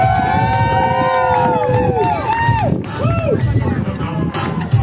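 A crowd at a Latvian parish festival in Rembate claps and cheers for a trials bike rider, amid steady outdoor hubbub and a voice talking over a loudspeaker, with whistling tones rising and falling throughout.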